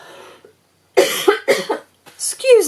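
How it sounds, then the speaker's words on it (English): A single person coughs several times in quick, close succession, the harsh bursts following a few moments of indoor speech. "I'm going to have to cough."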